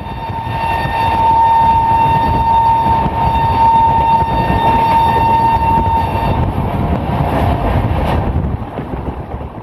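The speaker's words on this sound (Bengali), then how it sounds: "আমাদের ট্রেন এবার বেশ জোরে ছুটতে শুরু করেছে। এটি একটি সুপারফাস্ট ট্রেন।" The Howrah–Barbil Jan Shatabdi Express, a superfast train in India, runs at speed with a loud, steady rumble and rattle of wheels on track. A faint tone rings through the noise before it eases near the end.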